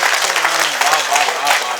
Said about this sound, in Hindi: तालियों से मैं प्रारंभ करना चाहता हूं पुनः